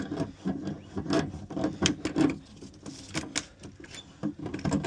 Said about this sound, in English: grab onto the nut cap assembly, loosen that up